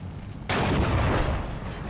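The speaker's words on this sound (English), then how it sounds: "IG-18 trying to get into position. He's firing on my team in this building." An IG-18 infantry gun fires in the WWII strategy game Steel Division 2, giving a single sudden loud boom that rolls into a long rumbling decay. Faint battle noise comes before the shot.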